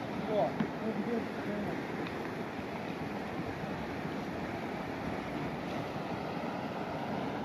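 Khingob river water rushing steadily along its bank in Vakhyo, a constant broadband roar with wind buffeting the microphone throughout and no other clear sounds.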